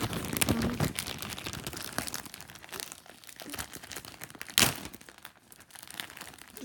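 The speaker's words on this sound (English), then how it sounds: "Just rip the plastic open." Plastic packaging from an origami shop is ripped and crinkled open up close, with continuous rustling, crackling and a few sharper tearing bursts.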